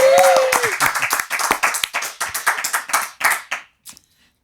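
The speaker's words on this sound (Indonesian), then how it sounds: "Tepuk tangan buat Mongol." Audience clapping for a guest from Mongolia on an Indonesian talk show, a quick run of close, sharp claps that thins out and stops, with a voice over the opening.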